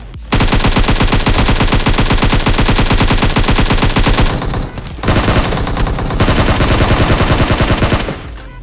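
Sustained, rapid automatic rifle fire in PUBG Mobile, an M416 or Groza, rattles loudly and continuously. It breaks off briefly in the middle, then resumes in a second long burst before stopping.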